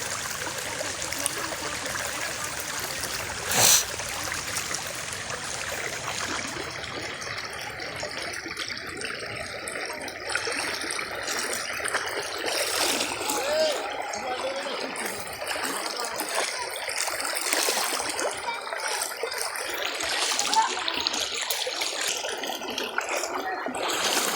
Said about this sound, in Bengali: পানির অবশ্যই আওয়াজ শুনছেন পানির অতিরিক্ত স্রোত